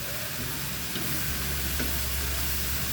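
Sautéing in a pan with ketchup and sliced ingredients for a simple petchay dish gives a steady, loud sizzle and frying hiss that runs unbroken throughout, with faint stirring scrapes and no talk.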